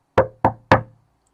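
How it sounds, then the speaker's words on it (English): Three sharp, evenly spaced knocks land on a door, close and crisp, each ringing briefly before silence. "Suddenly, there was a knock at the door."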